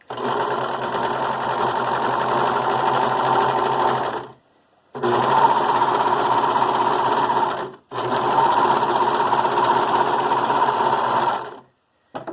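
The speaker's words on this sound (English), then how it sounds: "So I'm serging the armholes." A Brother 1634D serger stitches the armholes of a knit dog sweater, its fast, steady mechanical whirr running in three long bursts separated by brief pauses, close and loud with no talking.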